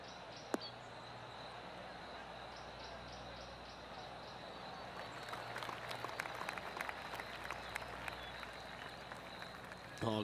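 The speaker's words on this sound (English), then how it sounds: "Oh, golf clap." Spectators at a golf tournament give a soft, polite smattering of applause that builds slightly toward the end, heard at a distance with birds chirping in the background.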